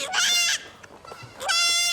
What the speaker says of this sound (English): the children, the babies, these brand new goats